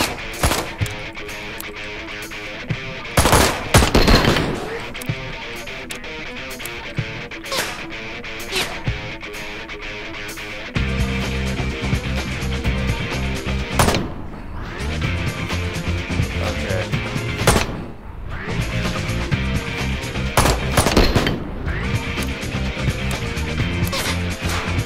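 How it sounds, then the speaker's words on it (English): Enemies fire on the player in the Ride to Hell: Retribution video game: repeated bursts of rapid automatic gunfire cut in and out among other game sounds at fairly loud level. "I'm gonna get shot up."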